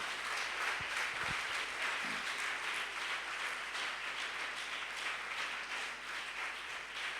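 A church congregation applauds together, steady dense clapping that fills the room from start to finish, with no voices above it.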